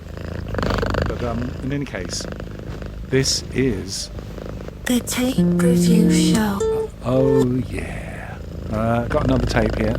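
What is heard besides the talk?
cat purring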